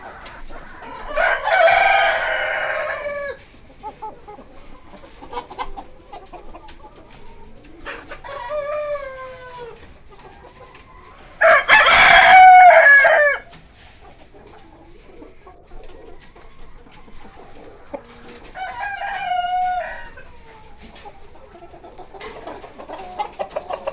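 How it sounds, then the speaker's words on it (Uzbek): Large roosters crow loudly several times in a farmyard flock, long drawn-out calls spaced across the stretch with one very close and loud, while hens cluck softly in between. "Xo'rozlarimiz yaxshi, katta."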